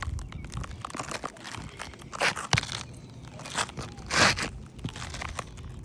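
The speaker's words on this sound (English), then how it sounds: "you can hear the granules" Granules crunch and scrape underfoot on a damaged asphalt roof shingle, making gritty, close crackling bursts at irregular intervals with no talk over them.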